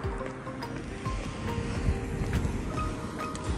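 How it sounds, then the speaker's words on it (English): Wind blows outdoors in a spring neighborhood in New Jersey, a low buffeting rumble across the microphone with faint background tones and no speech. "It's a bit windy,"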